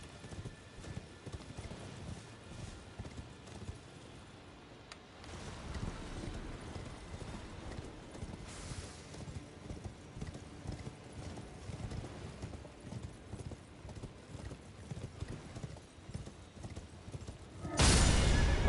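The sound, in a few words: horse hooves in video game Elden Ring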